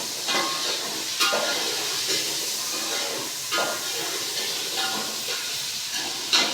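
Chopped tomatoes frying with browned onions in a pan, a soft continuous sizzle broken by a few brief scraping stirs, with no talk.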